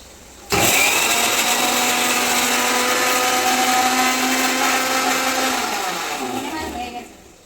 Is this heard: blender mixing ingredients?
yes